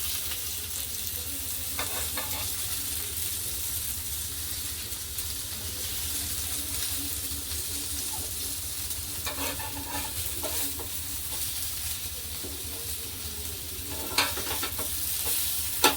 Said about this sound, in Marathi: हेही बोंबील आपण दुसऱ्या बाजूने पळटून घेऊया